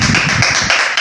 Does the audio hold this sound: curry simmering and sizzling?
no